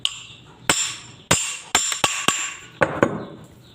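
A hammer strikes a refrigerator rotor in a series of sharp metallic knocks, about eight blows at irregular spacing with short ringing decays, close and clear with no talk.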